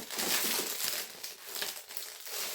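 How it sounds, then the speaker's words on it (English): Crinkly sheets of phyllo pastry are handled on baking parchment for an apple strudel, giving close, continuous papery rustling and crackling with no voices. "Now we're going to use 7 sheets of phyllo pastry."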